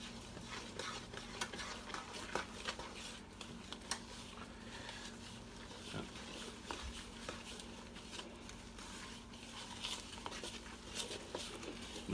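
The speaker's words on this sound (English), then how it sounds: "Now we're going to mix this up." Quick bread batter made from pancake mix is stirred in a bowl, giving a soft, continuous wet scraping with faint clinks from the utensil, close and quiet, with no talking.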